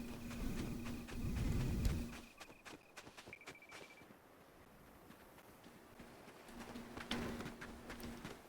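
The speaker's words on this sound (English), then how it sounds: "Listen to the birds out there." Birds coo and call faintly in the Fortnite game world, a dove-like cooing at the start and again near the end, amid soft game ambience and footstep-like thuds.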